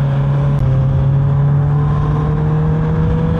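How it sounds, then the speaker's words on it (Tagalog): Steady, loud drone of heavy road traffic, with car engines humming and vehicles passing continuously during a congested long-holiday drive. "Grabe, sobra na traffic,"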